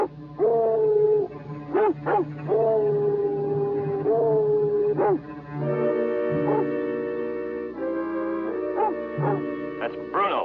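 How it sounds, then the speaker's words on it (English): A dog named Bruno howls in long, wavering cries repeated several times with short gaps between them, loud and near in a snowy ski setting. "That's Bruno. That's the dog."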